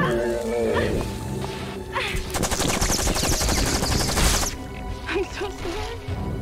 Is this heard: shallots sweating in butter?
no